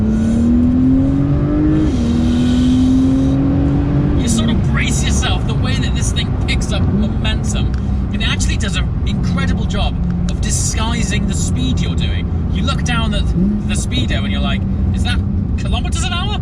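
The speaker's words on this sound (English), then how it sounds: "got my sports exhaust on, and actually for a turbocharged engine" A Porsche 911 Turbo S (992) engine revs and pulls hard through the gears with a throaty sports exhaust rumble and sharp crackles, while someone talks over it.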